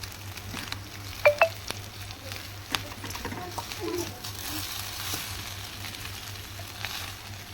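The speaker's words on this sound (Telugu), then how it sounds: "మనం బాయిల్ చేసుకున్న నూడిల్స్ని వేసుకొని వెజిటేబుల్స్ అన్నీ కలిసిపోయేంత వరకు కలుపుకుందాం" Boiled Maggi noodles and vegetables are stirred in a frying pan, giving a soft, steady sizzle with scattered light scrapes and taps of the utensil, fairly quiet and close.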